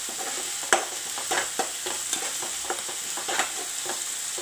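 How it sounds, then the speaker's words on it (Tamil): Onions with ginger and garlic sautéing in a kadai, a steady soft sizzle broken by repeated scraping stirs of a spoon, close and alone. "இந்த இஞ்சி பூண்டு பச்சை வடை போகிற அளவுக்கு வதங்கினா அந்த வெங்காயமும் சரியாக இருக்குங்க வதங்கிறது"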